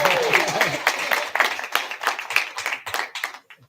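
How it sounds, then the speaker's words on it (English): Applause at a community forum held by the California Racial Equity Commission in Delano, Kern County: a short burst of handclaps from a modest crowd, with scattered individual claps fading out, and a voice briefly audible early on. "That was a pause for applause"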